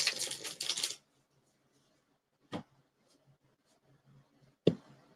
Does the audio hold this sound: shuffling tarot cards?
yes